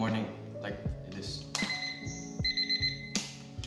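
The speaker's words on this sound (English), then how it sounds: "The alarm clock produces a ringing noise which has high frequency to wake us up" An alarm clock rings in short bright electronic bursts, several rings in quick succession, close and fairly quiet with soft thumps between.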